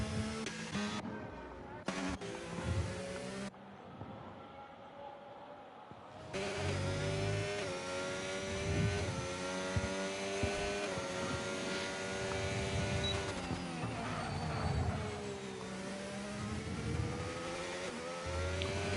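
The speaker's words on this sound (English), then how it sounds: "The engine doesn't sound happy with that corner." A racing car engine labours through a corner on the Bahrain circuit, holding a loud, strained drone with wavering pitch and revs that rise and fall, heard close and continuous after a brief dip near the start.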